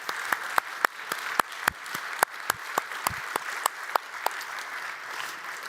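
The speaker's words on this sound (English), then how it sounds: "So we can have a round of applause for Natalie." A conference audience at the Free Cities Conference 2025 gives a thin round of applause. Separate sharp claps ring out at a quick, uneven pace over a quiet room hum, sounding fairly distant and sparse.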